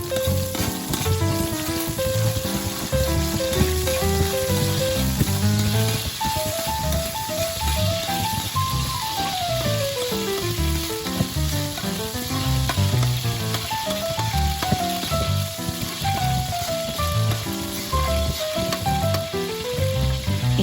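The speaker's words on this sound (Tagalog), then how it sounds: "Lagyan ng kaunting mantika at igisa ang ating minced garlic." Minced garlic sautés in a little oil in a pan, a steady, even sizzle that runs throughout beneath continuous melodic background music.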